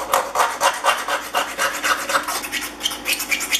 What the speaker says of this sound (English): Remove all of that thick rust until you get down some nice clean metal.